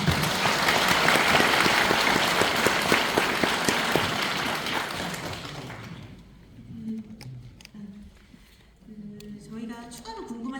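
Residents at a Mokdong 13 apartment reconstruction briefing give a round of encouraging applause, dense for about six seconds before thinning into scattered claps and room murmur with some talk.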